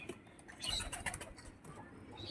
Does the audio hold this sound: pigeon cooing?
yes